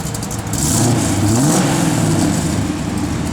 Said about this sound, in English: Give a little rev, Jordy.